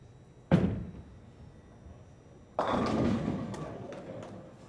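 Bowling ball striking the pins at a scratch tournament with the 4 pin left standing: a sharp thud followed two seconds later by a louder clattering crash of pins that rings out and fades, heard faintly from a distance.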